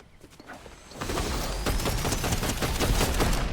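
Gunfire in the video game Fortnite: after a quiet first second, a dense, loud burst of rapid shots fills the rest of the clip, overlapping cracks with no talk heard.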